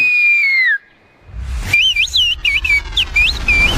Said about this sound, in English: the locals decided that to communicate, it's easier to whistle